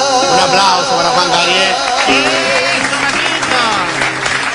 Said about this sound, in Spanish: Un aplauso para Juan